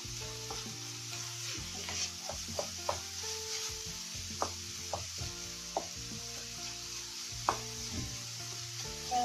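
Food is stirred in an oiled pan while making lasagna, with a steady sizzle under repeated scraping strokes of a utensil against the pan and occasional sharper clinks, close and continuous, with no talking.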